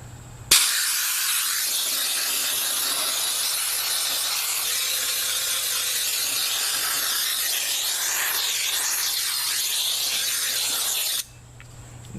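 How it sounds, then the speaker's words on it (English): A small 3-gallon Harbor Freight air compressor blows air through a nozzle in a workshop: a loud, steady hiss that starts abruptly, holds for about ten seconds, then cuts off. "Let's see if my little 3-gallon Harbor Freight air compressor has enough juice in it to get this blown off."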